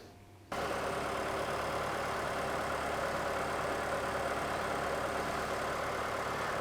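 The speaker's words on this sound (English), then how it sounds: "I'm going to go ahead and start the engine." A car engine kicks in abruptly after a brief silence and settles into a steady, even idle hum for the rest of the clip.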